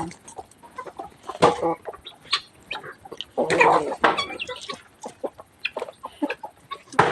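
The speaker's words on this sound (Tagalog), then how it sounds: "Ayan po yung itik po ni Japet" Ducks at feeding time around a home, a close, busy chorus of quacks and clucking calls in irregular bursts, with faint voices mixed in.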